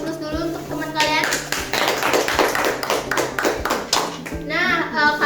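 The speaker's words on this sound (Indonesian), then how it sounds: "Silakan beli aplaus dulu untuk teman kalian" Classmates applaud a group of students in a classroom, a burst of hand clapping with scattered children's voices mixed in, loud and close throughout.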